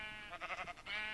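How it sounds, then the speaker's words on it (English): In a Minecraft-style survival video game, a sheep bleats once in a short, wavering, quavering cry, faint and heard alone without any talk. "Sheep!"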